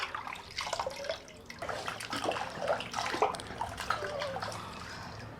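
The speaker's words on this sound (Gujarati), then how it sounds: "આ રીતે બે પાણીએ સરસ જબોડીને ધોઈ નાખવાનું" Close splashing and sloshing as thin potato slices for wafers are swished around in a bowl of water to wash off starch, with soft trickles and drips.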